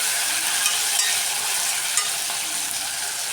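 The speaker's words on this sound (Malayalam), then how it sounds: "ഇനി നമ്മളിതിനകത്തേക്ക് തക്കാളി കരിവേപ്പിലയും കൂടി ആഡ് ചെയ്യാം. ഇത് മെല്ലെ ഒന്ന് ഇളക്കി കൊടുക്കണം." Tomato and curry leaves stirred in a frying pan over hot oil, a constant hissing sizzle with soft scraping strokes and occasional light pops, close and steady with no talk.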